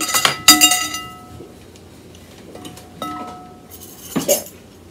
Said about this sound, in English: So I got my vanilla here, and I got my measuring tools here, 2 teaspoons